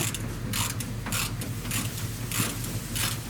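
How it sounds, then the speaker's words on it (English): A hand ratchet clicks in rapid, even bursts while doors are being hung on a 1979 Buick Limited, the close mechanical ratcheting repeating in short cycles with no talk. "Put your other hand on the ratchet."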